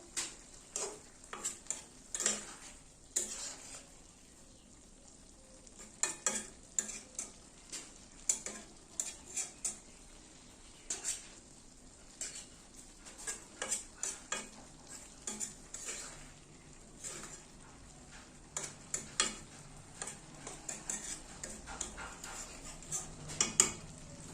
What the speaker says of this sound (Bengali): এবার আমি একটু ঝোলে ঢাল করে মিশিয়ে মিশিয়ে ডুবিয়ে ডুবিয়ে দেবো